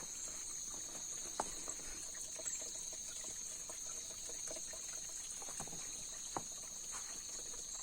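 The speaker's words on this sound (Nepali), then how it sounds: "पानी कलकल बगिरहेको छ।" A babbling stream in Karnali's Chisapani area of Nepal runs continuously, an even rushing hiss with small trickling splashes and occasional drips, heard alone.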